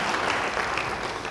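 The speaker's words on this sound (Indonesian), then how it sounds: "Yang percaya, beri tepuk tangan bagi dia." A church congregation applauding during a sermon, a dense steady wash of many hands clapping, fairly close and even throughout the short burst.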